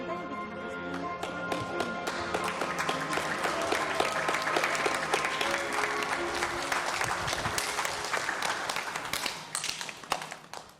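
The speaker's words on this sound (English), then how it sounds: "give yourselves a round of applause" A storytelling audience breaks into sustained applause, a thick patter of many clapping hands mixed with tonal sounds, swelling and holding steady before tapering off near the end.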